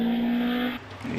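A Westfield race car at a Prescott hillclimb event screams under hard acceleration with a high sustained engine tone, then drops off abruptly as it shifts or passes, loud and close.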